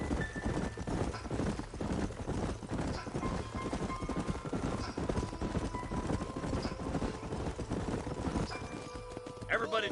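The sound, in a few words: horses riding, hooves in video game Red Dead Redemption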